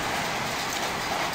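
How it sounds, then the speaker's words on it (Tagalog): Steady rain falls in Bahrain on the first day of Ramadan, a dense even hiss of drops on surfaces with no pauses and no voices. "sagrado ang ulan na ito mga katropa para sa kanila dito sa Middle East"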